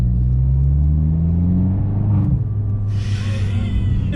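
Abarth 595 Competizione exhaust gives a deep, bassy low boom while driving, a steady loud rumble with a rising tone early on that settles, then a brief burst of higher hiss near the end.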